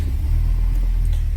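A 2019 Honda Civic Type R engine running after a push-button start, a loud close low rumble held steady through the brief moment, no talk.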